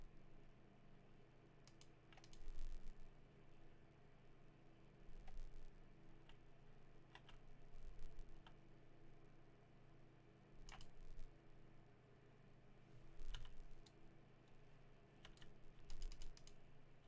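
Quiet bursts of computer keyboard typing come in short clusters every couple of seconds over a low steady electrical hum, faint and close, with no talking.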